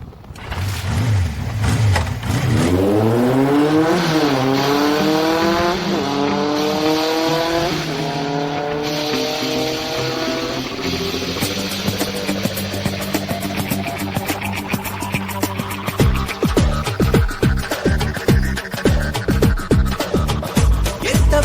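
A motorbike ridden at speed on a highway between Hyderabad and Giddalur, its loud engine climbing through repeated gear changes, then settling into a steady high-speed drone with rushing wind, alone without talk.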